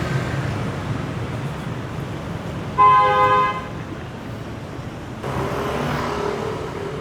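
Road traffic on a jammed street crowded with cars and motorbikes, with a steady engine rumble and one clear horn toot near the middle, followed by a louder wave of passing vehicles.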